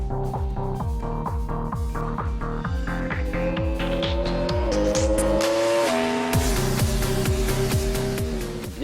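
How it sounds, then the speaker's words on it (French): A Yamaha R1 motorcycle laps the Castellet circuit, its engine screaming up through rapid gear changes with stepped rising pitch, loud and close throughout without talk. "Et puis pour Philippe Monneret, la Yamaha R1 qu'on vous propose de découvrir tout de suite sur le circuit du Castellet."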